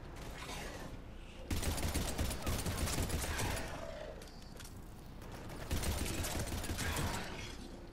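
Rapid incendiary-ammo gunfire in the Mass Effect 3 demo, loud sustained bursts of crackling automatic fire with short pauses between volleys, mixed with game combat noise.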